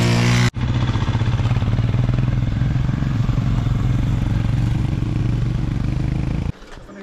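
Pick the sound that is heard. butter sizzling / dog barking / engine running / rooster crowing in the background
engine running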